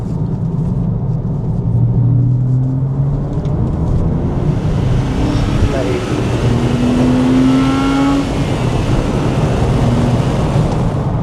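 A sports car accelerates hard while chasing a Toyota GR Yaris on the road. Its engine drones loud and close, with rising, revving harmonics held steady throughout and no talk over it.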